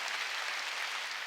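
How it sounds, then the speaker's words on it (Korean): Applause from a congregation at a Sunday church service, a dense, even wash of many hands clapping together, fairly soft and steady. "감사의 박수 시작이야."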